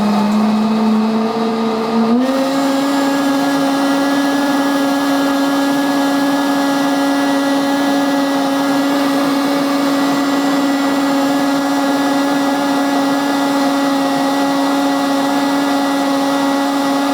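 A high-powered blender whirs at a loud, steady pitch while blending watermelon juice with lime and mint leaves, ramping up briefly near the start and then holding a continuous drone.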